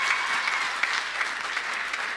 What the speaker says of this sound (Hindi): भाई तालियां कम है